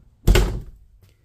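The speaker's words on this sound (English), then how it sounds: "This is a solid door too. That's not a hollow door that you would typically see." A solid walk-in pantry door in a high-end DRV fifth wheel RV swings shut with one heavy, close thunk that fades quickly into a quiet room.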